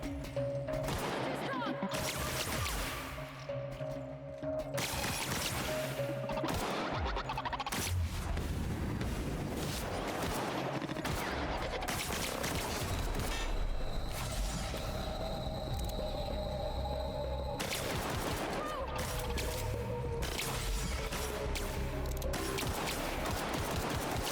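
Weapon gunfire in The Outer Worlds, a sci-fi shooter video game, crackling in steady bursts over a dense bed of game ambience and humming machinery, loud and continuous through the whole stretch.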